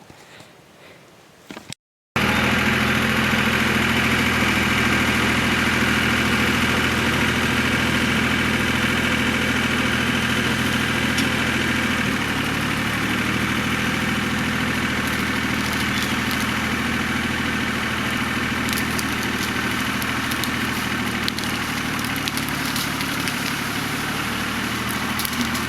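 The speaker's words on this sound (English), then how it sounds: "let's get the tractor cranked and watch him come out of the ground" After a brief quiet moment, a diesel tractor engine fires up and settles into a loud, steady idle that holds without a break for over twenty seconds, with rough, low vibration close by.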